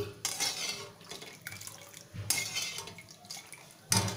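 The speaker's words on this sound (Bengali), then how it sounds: "এবারে একটি কড়াইয়ে আমি চিনি শিরা করে নিচ্ছি" Sugar syrup cooking in a wok, heard as a few sharp metal clanks of a spatula against the pan with soft bubbling and stirring between, close and fairly quiet.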